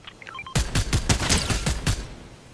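A rapid string of roughly ten loud gunshots from a weapon in Fortnite, fired in quick succession as a close, punchy burst after a brief electronic chime.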